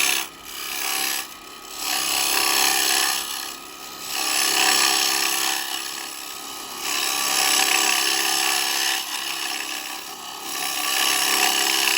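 Carbide chisel cutting a spalted beech bowl on a wood lathe, a continuous hissing scrape that swells and fades in several long passes over a faint motor hum, with no speech.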